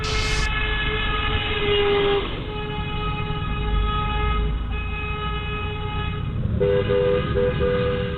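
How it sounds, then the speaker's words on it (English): Car horns honk repeatedly from vehicles driving past a home during a bitter dispute with neighbors, sustained tones layered over steady traffic noise, with a fresh blast near the end. "every single one of them was driving by honking the horn"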